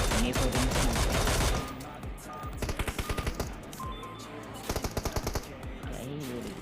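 Automatic and single gunfire in the PUBG Mobile battle royale game, with loud sustained bursts up front, then rapid rhythmic volleys of sharp shots repeating at a steady pace, fairly close and without talk.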